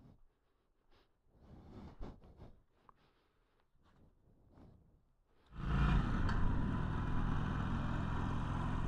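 A Harley Davidson Iron 883 motorcycle starts off after some quiet handling noises, then its engine roars steadily and loudly as it rides along the road with wind rush.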